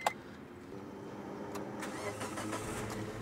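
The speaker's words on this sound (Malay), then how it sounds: "kita try start dia punya enjin" An older Proton Persona car engine cranks over and fires on a single attempt, then settles into a steady mid-pitched idle, heard fairly close with no talking.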